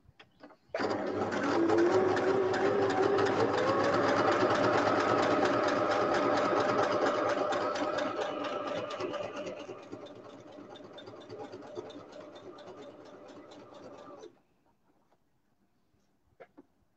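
A sewing machine needle stitches a shirt collar in one continuous, close run of about thirteen seconds, easing slightly in pace partway through before stopping abruptly, followed by quiet.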